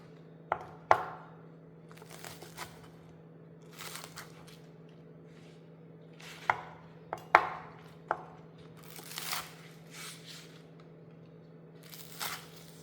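A knife chopping green onions on a cutting board in a home kitchen, a scattered series of sharp, light taps over a low steady hum, close and fairly quiet.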